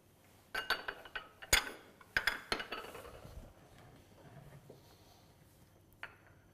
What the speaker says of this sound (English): we stir the butter inside